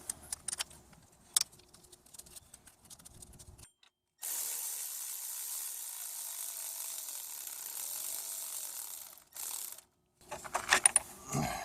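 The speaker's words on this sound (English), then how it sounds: "so we'll re-bolt the power steering pump" A power steering pump being re-bolted onto a Honda 2.4L four-cylinder engine gives faint ratcheting clicks and metallic tool handling up close. A steadier stretch of mechanical noise runs between them, and sharper clustered rattles come near the end.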